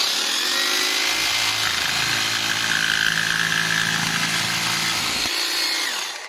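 A Parkside Performance X20V cordless jigsaw runs at speed setting 6, its motor whining loudly and continuously while the blade chatters through a cut, ending with a brief drop in pitch.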